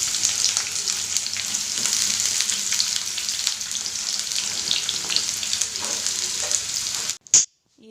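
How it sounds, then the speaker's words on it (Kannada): Onions with curry leaves sizzle loudly in a pan for village-style sprouted horse gram sambar. The frying hiss is steady and close, then cuts off abruptly near the end after a brief thump. "ಈರುಳ್ಳಿ ಎಲ್ಲ ಚೆನ್ನಾಗೆ ಫ್ರೈ ಮಾಡ್ಕೋಬೇಕು"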